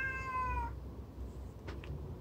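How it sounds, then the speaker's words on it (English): A house cat meows once, a single clear drawn-out cry wanting to get in, close by over a low background hum, followed by a couple of faint knocks. "Hold up, my cat is going crazy."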